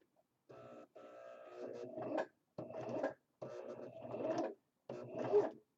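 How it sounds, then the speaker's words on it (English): A sewing machine stitching with black thread runs in four short bursts separated by brief pauses, a close, whirring mechanical hum with rattling clicks that builds slightly toward the end of each burst. "as I'm sewing, as you can see, the bobbin is in operation and it's threading with black thread"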